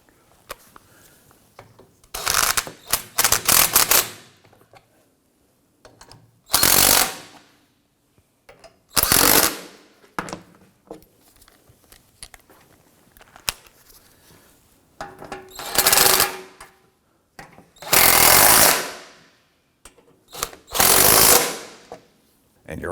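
Bolts get snugged down during a downstream O2 sensor install on a 2003-2014 Volvo XC90: about seven separate bursts of ratcheting, each a second or two long, are split by quiet gaps, close and fairly loud.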